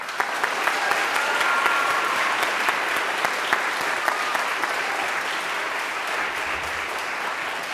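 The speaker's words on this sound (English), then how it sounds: "Another round of applause, please." A school auditorium audience at a high school recitation night keeps up a long, full round of applause, steady and loud, with a few sharper individual claps standing out near the front.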